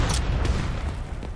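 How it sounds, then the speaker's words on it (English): A frag grenade exploding in The Division 2, a deep rumbling boom with a heavy low-end roar that fades into continued combat rumble. "Throwing a frag!"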